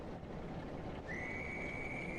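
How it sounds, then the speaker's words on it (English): A guard's whistle at a station in Train Sim World, one long steady shrill blast that starts midway over a low rumbling background and holds to the end. "You blow your whistle at me, sunshine."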